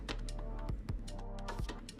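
A few sharp keystrokes on a computer keyboard, pressing a shortcut while working in Blender, sound as scattered close clicks over a steady musical background hum.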